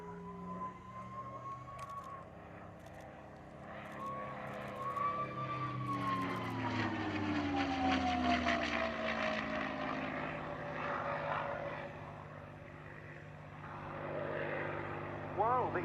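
A Rolls-Royce Merlin-engined P-51 Mustang flying at an RAF Cosford air display, its propeller engine droning steadily with a rising and falling pitch as it passes, moderately distant, with clicks and bursts of crowd noise around it.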